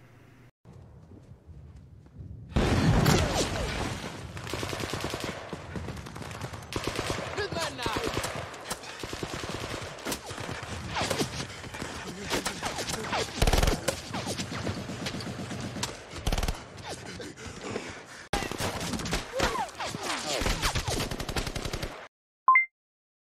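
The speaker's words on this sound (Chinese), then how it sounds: "国产战争电影已经不管什么枪都能射夜光弹了" Rapid gunfire from a Chinese war film, with machine-gun bursts and scattered single shots firing tracer rounds, loud and dense almost throughout, broken by brief pauses and a final isolated crack.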